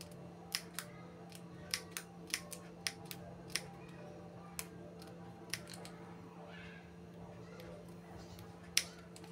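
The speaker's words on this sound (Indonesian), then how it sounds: "Kita gunting kecil-kecil seperti ini ya teman-teman sampai selesai." Small scissors snip a plastic snack cup into small pieces, giving a quiet, irregular series of crisp cuts over a low steady hum.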